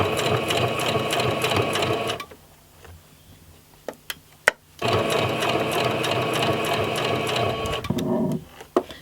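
A sewing machine stitching over a pinned dress pattern runs loud and steady, stops for about two seconds with a few faint clicks, then starts again and runs on. No speech is heard.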